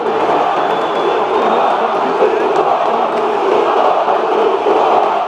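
Botafogo fans in a stadium roar in a continuous crowd din, a broad sustained wash of shouting and chanting from thousands of voices, heard at a distance with no single voice standing out.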